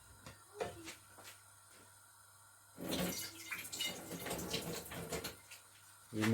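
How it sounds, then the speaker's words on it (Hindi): Water from a glass is poured into a cooking pot for moong dal, a steady splashing burst near the middle of the clip amid faint kitchen clatter, with a brief knock at the end. "हम इसमें 2 गिलास पानी ऐड करेंगे"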